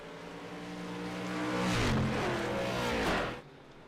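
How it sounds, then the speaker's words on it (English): Race cars in iRacing, a short-track racing sim, roaring past with engines revving up and dropping in pitch as they sweep by close, then cutting off abruptly. "I love the sound of these cars when they drive by."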